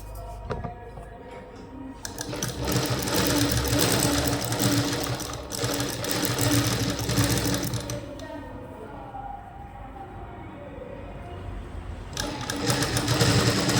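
A sewing machine stitches darts on a blouse in rapid, rattling bursts of mechanical clatter, pausing briefly between runs and starting up again, close and fairly loud.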